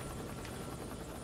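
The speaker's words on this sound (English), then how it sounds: "Riding the helicopter." Helicopter in Tony Hawk's Pro Skater 2X, a steady broadband rotor and engine roar at constant loudness throughout the brief moment.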